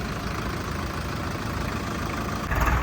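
A tractor engine idles nearby with a constant low, throbbing rumble that swells a little louder near the end.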